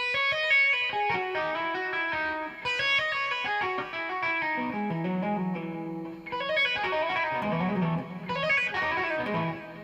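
Clean electric guitar playing quick arpeggiated notes, ringing patterns repeated in bursts, close and clear with no voices.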